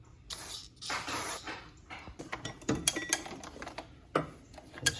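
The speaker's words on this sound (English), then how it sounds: "I'm going to spray a little bit of this on, this freeze off, super penetrant." Freeze Off super penetrant hisses from an aerosol can in two short bursts onto a car part, followed by close metallic clicks and taps of tools being handled.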